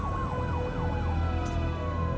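An ambulance siren wails continuously, a loud, near, swooping tone rising and falling in steady cycles over a low road rumble.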